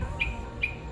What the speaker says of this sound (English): And these dang birds, it is 3 o'clock in the morning and you